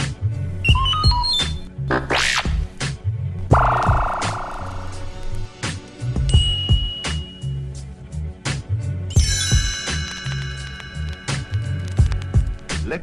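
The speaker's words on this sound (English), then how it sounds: "Turn the pages when you hear this sound." A series of electronic beeps, chimes and bright synthetic tones, some sweeping upward and some ringing, over a low rhythmic musical backing.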